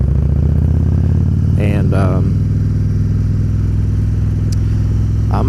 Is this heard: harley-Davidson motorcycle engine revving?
yes